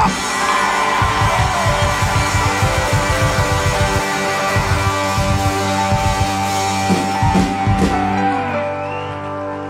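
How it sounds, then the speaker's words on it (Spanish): A church congregation shouts and whoops for joy together, a loud sustained crowd roar with overlapping yells and some rhythmic beats running under it for several seconds. "Hay alguien que dé un grito de júbilo."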